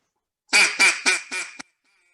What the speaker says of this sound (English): I have a duck call made out of 2x4 with OB shine on it